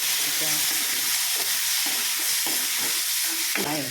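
Semolina sajjige with dill greens frying in a pan, a steady loud sizzle with repeated scraping strokes of a spoon stirring through it, close up.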